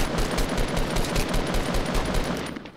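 Sustained automatic gunfire in Fortnite Battle Royale, rapid, evenly spaced loud shots in a close burst that fades at the end.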